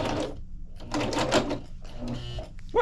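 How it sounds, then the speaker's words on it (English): A sewing machine stitching a handmade floral crossbody bag, running in short mechanical bursts of rapid clattering, close and fairly loud, with brief gaps between runs. "Now I'm finna sew it, and I'm gonna do that to all 10 of them."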